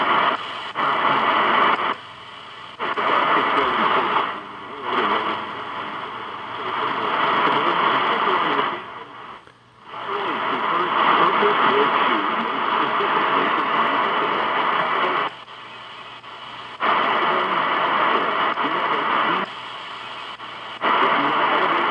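A faint AM broadcast drifts through hiss and static on a Prunus J-711 shortwave receiver in Molokai, Hawaii, fading and dropping out several times.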